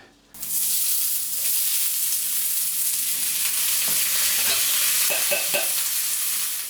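Garden onions, purple and small yellow, and garden garlic sizzle steadily in a hot pan, with a bright continuous hiss and a few scraping stir clicks near the end; no one speaks.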